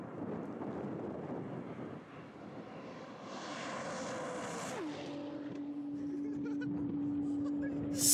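A car at the Nardo high-speed track in Italy runs flat out, its engine holding a high, steady whine near 7,500 RPM amid heavy wind rush, the pitch dropping and settling partway through.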